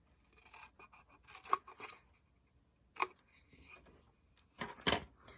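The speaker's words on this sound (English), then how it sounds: "I'm cutting again along those side score lines only up to the horizontal one" Scissors snip along side score lines in paper to form a tab on a gift box card holder, a few short separate cuts with quiet gaps, close and crisp.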